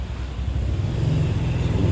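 Motorcycle tricycle taxis parked at the San Juan, La Union public market give off a continuous low engine drone that swells slightly, heard up close with no voices.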